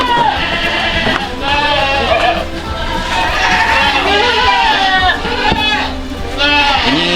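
Many goats in a farm pen bleat repeatedly and overlapping, loud and close throughout, with some human talk mixed in among the calls.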